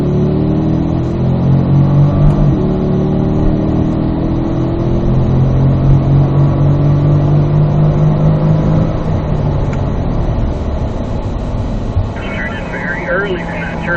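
A Chevrolet Corvette accelerates in third gear on a race track. A steady, loud engine drone with rising tone runs throughout, with a voice heard over it.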